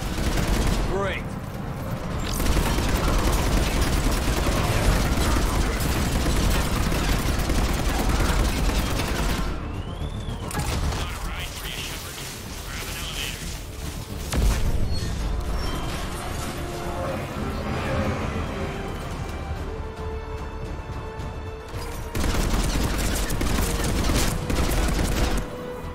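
Gunfire from a weapon hip-fired in Mass Effect 3, during an attack on the Citadel, runs in dense, sustained bursts across the whole stretch, with brief lulls and mechanical clatter, and game music and noise underneath.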